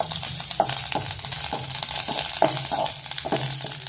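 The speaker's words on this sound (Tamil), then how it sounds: "கருவேப்பிலையை வறுத்துருவேன் நல்லா" Curry leaves fry in hot oil, a constant crackling sizzle with regular soft scraping knocks from stirring, close and moderately loud with nobody talking.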